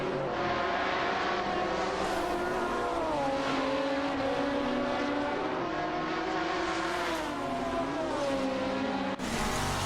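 Koenigsegg CCGT race cars in a video game give a loud, continuous engine roar. The pitch climbs and dips as the cars accelerate and shift through gears, with overlapping engine tones and no pause.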